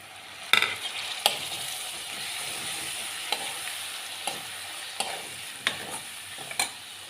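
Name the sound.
onions and tomatoes sautéing in a pan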